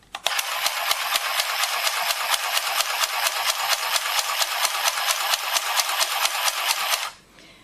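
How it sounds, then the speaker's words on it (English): A Handy Stitch handheld sewing machine runs in one long burst, a loud, rapid, even mechanical clatter of stitches that stops sharply near the end. "Going to press the power button and start sewing."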